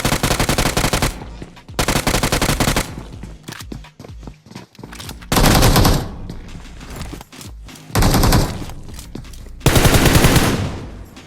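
UMP submachine gun fire in PUBG Mobile sounds in several loud rapid bursts, each one to two seconds long, with short gaps between.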